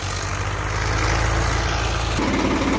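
A Swaraj tractor engine idles nearby, either the older 744 or the newer 855 FE, a loud, steady low diesel rumble with an even throb and a slight shift in tone near the end.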